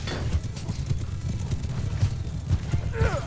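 Cavalry horses gallop in a Mount & Blade II Bannerlord battle with rapid, rhythmic hoofbeats throughout, and a short neigh rises near the end over the battle din.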